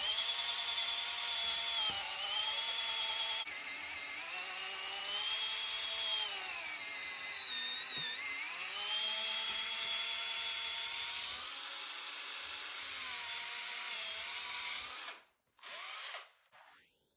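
An old 1980s electric drill whirs steadily for about fifteen seconds in a shop, its pitch sagging and recovering under load, then stops with a couple of short bursts.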